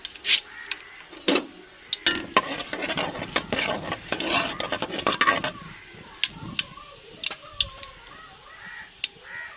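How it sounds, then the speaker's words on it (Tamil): Mustard seeds and urad dal crackle and pop in hot oil in a pan, giving sharp, irregular snaps and a light sizzle up close, with stirring scrapes among them and some speech. "எண்ணெய் சூடாயிருச்சுங்க கடுகு போட்டுக்கிறோம் உளுந்து செதுக்குறோம்"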